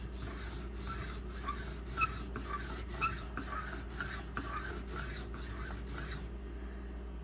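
A knife blade is pushed and drawn across an Imanishi 1K/6K combination whetstone, with about a dozen even rasping strokes in a steady rhythm, close up and alone before the scraping stops.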